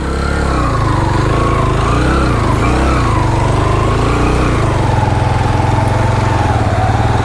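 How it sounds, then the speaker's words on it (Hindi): Motorbike engine labouring loudly on a steep mountain track to Ratti Gali Lake in Neelum Valley, a close, strained drone that rises and falls in pitch throughout, with no talk. "अभी भी बाइक नहीं चढ़ रहा, बहुत ज़ोर लग रहा है बाइक का।"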